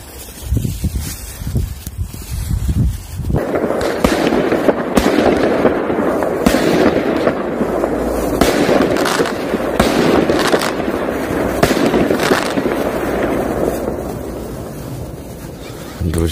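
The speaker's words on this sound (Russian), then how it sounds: "Друзья, кто-то пускает салют." Fireworks set off on a snowy, frosty New Year's winter evening, a rapid string of sharp crackling bangs and bursts heard from nearby, loud and continuous, with wind noise in the background.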